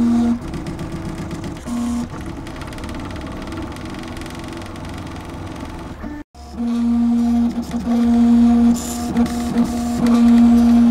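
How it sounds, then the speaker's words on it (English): A Printrbot 3D printer works through its first printed design, stepper motors buzzing and whining loudly up close in shifting tones, with a brief break midway before the steady mechanical hum resumes. "This is my first design being printed."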